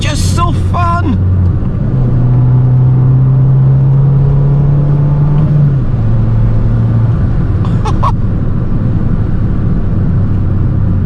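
A Fiat 595 Abarth hot hatch drives along back roads, its engine giving a loud, steady droning hum that climbs in pitch under acceleration, then eases off as it shifts, with brief voice sounds at the start and near the end.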